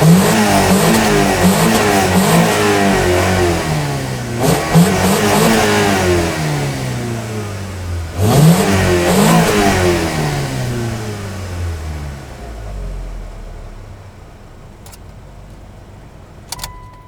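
Car engine revving hard through a homemade quiet high-performance straight-through muffler exhaust, repeated rising revs that drop back, then idle settling down near the end, loud and close.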